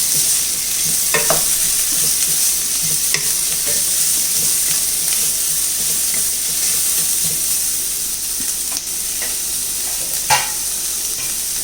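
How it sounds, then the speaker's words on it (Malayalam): Onions sauté in a hot pan for egg biryani, giving a steady, loud sizzle and hiss throughout, broken by occasional stirring scrapes and taps of a spoon. "ഉള്ളി ഒന്ന് വാടി വരട്ടെ നല്ലോണം."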